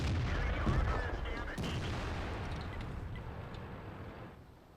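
A tank cannon shot in the World of Tanks video game, a loud booming blast early on that rolls and fades into a long decaying rumble, with a faint voice in the background.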